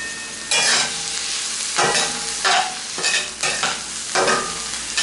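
Meat for a Mexican dish tossed and stirred in a hot wok, sharp bursts of sizzling recurring every second or so, close and loud with no talking.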